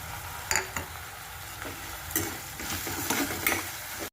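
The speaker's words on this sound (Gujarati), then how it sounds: "આપણે આ લીલા મરચાં અને લસણ સમારી છે ઝીણું ઝીણું, એ નાખી દઈએ।" Finely chopped green chillies and garlic drop into hot oil in a pan, a soft crackling sizzle broken by several sharp clicks and stirring knocks, fairly quiet and close.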